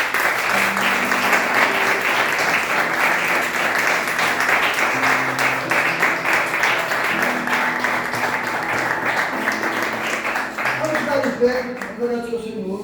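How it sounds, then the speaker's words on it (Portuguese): A church congregation applauding steadily and loudly for several seconds during a worship service, with music playing underneath, tapering off at the end. "Vamos dar uma salva de palmas"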